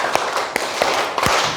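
A group claps out a counted rhythm pattern in a classroom session, producing sharp, loud bursts spaced irregularly at close range, with no talk over them.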